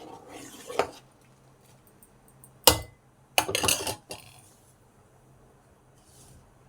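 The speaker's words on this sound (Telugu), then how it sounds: "అన్నం అనేది ఇట్లా కలుపుకోవాలి చక్కగా." Cooked rice being stirred in a pot, a few separate scraping and clinking bursts of a spoon against the vessel between quiet stretches, close by with no talk.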